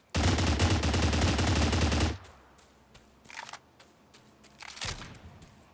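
Rapid gunfire in the Stalcraft video game, a dense automatic burst lasting about two seconds, then a few scattered shorter shots and clicks with quieter gaps between them.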